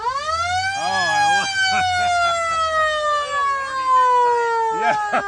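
An electric siren on a 1953 Mercury Monterey wails loud and near, rising then sliding slowly down in pitch, with someone talking over it.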